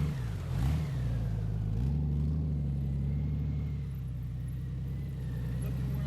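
A Honda Goldwing DCT motorcycle pulls away from a tight turn, its engine note rising steadily from a low idle into a smooth, continuous drone that holds close and fairly loud for several seconds.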